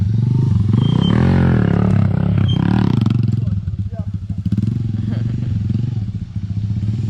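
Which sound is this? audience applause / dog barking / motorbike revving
motorbike revving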